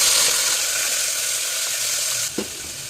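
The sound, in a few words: shallots frying in oil with mustard seeds in cooker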